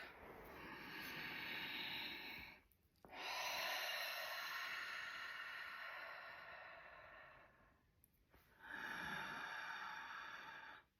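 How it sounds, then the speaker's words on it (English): Long, slow, deep breaths drawn and released during yoga practice, about three drawn-out airy inhales and exhales with short pauses between, close to the mic and fairly soft, with no talking. "let's take a breath"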